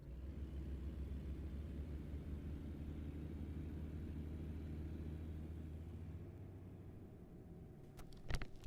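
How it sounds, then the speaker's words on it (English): A customised Kenworth W900 truck driving, with a steady low engine rumble and road drone inside the cab that eases toward the end before a few brief knocks. "It's my done up Kenworth K1 W900."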